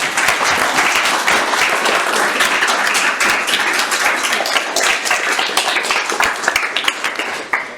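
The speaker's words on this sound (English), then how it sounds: "let us give a round of applause to everybody who spoke" An audience claps at the end of a mathematics lecture, a dense, sustained round of applause heard up close, fading slightly near the end.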